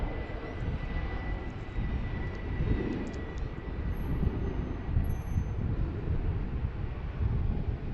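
An airplane departs runway 15 at DCA airport, a loud continuous engine roar with rumbling low end that holds steady throughout, with wind noise on the microphone.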